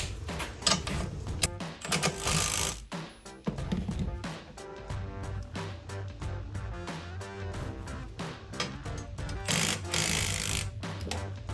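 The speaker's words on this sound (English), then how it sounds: "it's for my spring compressors, it's a 3/4 inch socket, and we'll start to loosen those out" A 3/4 inch socket, likely on an impact wrench, loosens spring compressors during a front shock install on a 2009-2018 RAM 1500, a close, loud rattling mechanical whirr in repeated bursts with short pauses.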